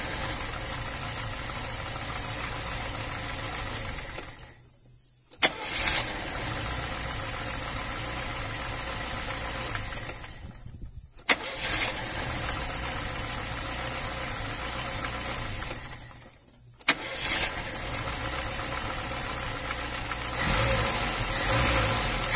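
A VAZ 2103 car engine with a knock idles close by, running steadily with a few brief drops where it nearly stalls or cuts out before picking back up.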